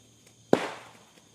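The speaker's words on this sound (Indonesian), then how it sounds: "Itu seperti dahan kayu ya jatuh teman-teman." A single sharp crack of a tree branch falling in a forest, followed by a short crashing rustle that fades within a second, fairly close, with quiet surroundings.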